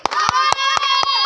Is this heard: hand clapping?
yes